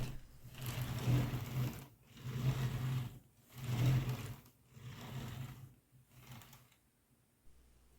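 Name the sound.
Lego truck and trailer rolling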